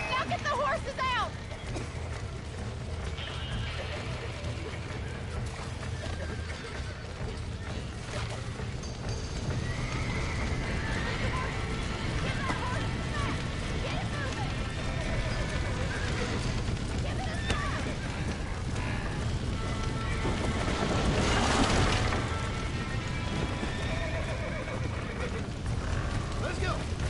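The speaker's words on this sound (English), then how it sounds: "Now get the horses out!" Horses in the Red Dead Redemption video game gallop with rapid clip-clop hoofbeats and repeated whinnies and neighs, layered over a busy ambient background with voices throughout.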